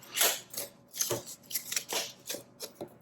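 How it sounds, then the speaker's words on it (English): A bird-shaped pair of scissors handled at close range, a series of crisp metallic snips and rustling clicks in an irregular rhythm, with no talk. "a cool pair of scissors"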